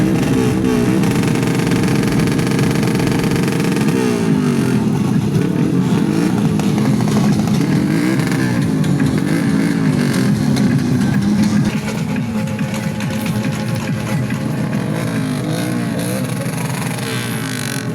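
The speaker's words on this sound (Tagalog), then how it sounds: "sobrang lakas ng mga tambucho" Loud, continuous exhaust roar from several motorcycles revving at a motor show in Talampas, Bustos, Bulacan, with repeated surges, up close and dominating, easing slightly toward the end.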